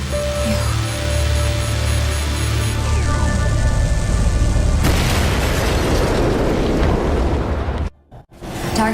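A loud, sustained blast from a destroyed target in the mech combat game Daemon X Machina: a dense roar swells and rumbles for several seconds, then cuts off abruptly near the end.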